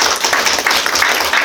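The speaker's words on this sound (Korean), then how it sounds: "자축에 박수 한번 치세요." An audience at a Korean business marketing seminar claps together, a dense, even burst of applause lasting a moment with no talk over it.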